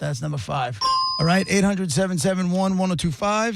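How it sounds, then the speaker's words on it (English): A bright ding sound effect rings out on a radio show, a sustained clear tone sounding over a host's continuous talk, with another voice chatting around it. "You got yourself a ding right there."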